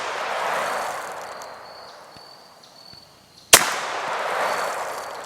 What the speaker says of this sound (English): Let's shoot an apple, and we'll give you a first person view here.